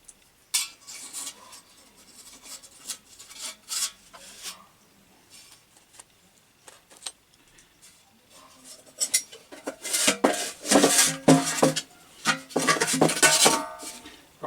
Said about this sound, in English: just quickly pull out one of the spare stoves